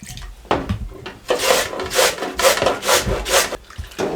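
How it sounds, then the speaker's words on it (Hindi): A peeled potato is rubbed against a metal grater over a bowl of water, giving a series of loud, rhythmic rasping strokes, close up and steady, about one scrape every half second. "कद्दूकश की मदद से हम इसको कद्दूकश कर लेंगे"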